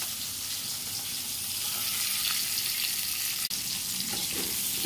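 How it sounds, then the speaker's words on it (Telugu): A tempering of mustard seeds, green chilli and onion sizzles in hot oil for banana fry, a steady close frying hiss with faint stirring and a single sharp click midway. "ఆవాలు పచ్చిమిర్చి ఆనియన్ పోపు ఐటమ్స్ వేస్తానండి"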